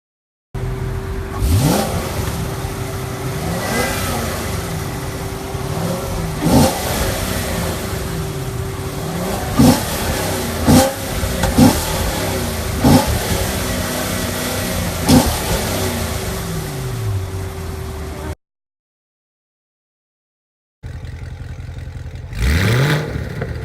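A Chevrolet Corvette C7 fitted with a new exhaust revs repeatedly from a steady idle, each blip climbing and falling back, loud and close for about eighteen seconds; after a short silence, the engine roars again at the end.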